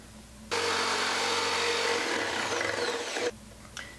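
An electric jigsaw cuts through a wooden panel for a doll's house kitchen, a loud, steady buzzing whine that starts abruptly, runs for about three seconds and stops, followed by a faint knock.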